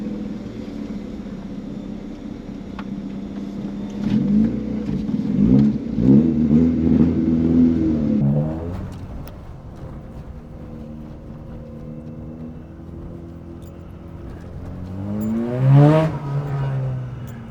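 A Ford Fiesta with a swapped-in 130-horsepower Puma engine revs up and accelerates loudly, the pitch climbing and dropping with gear changes, ending in a sharp rising rev.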